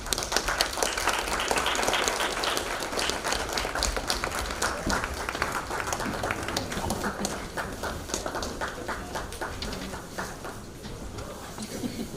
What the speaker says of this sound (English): can we stand and maybe clap hands for him so that he can ascend the stage?